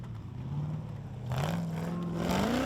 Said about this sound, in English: lighting up the big LSA V8